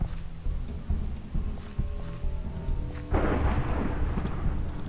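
Thunder rumbles in a zombie video game, a deep broad roar swelling up partway through and holding loud to the end, after quieter game noises with light beeps and tones.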